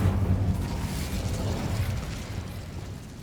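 An Incendio fire spell cast in Hogwarts Legacy gives a loud, rumbling burst that is strongest at the start and then roars steadily and fades slightly over a few seconds, with no voices over it.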